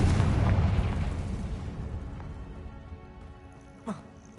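Spell explosions from Bombardo and Confringo in the Hogwarts Legacy video game: a loud deep boom at the start that rumbles and slowly fades, followed near the end by a short sharp burst.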